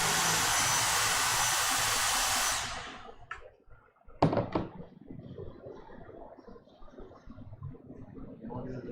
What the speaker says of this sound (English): this is called vacuum tool